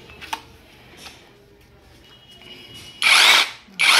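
A Total 26mm brushless 20V hammer drill starts with brief loud whirring bursts near the end, after quiet handling clicks.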